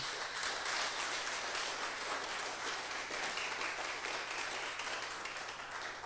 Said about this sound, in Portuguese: Então, aplauso mais para meu irmão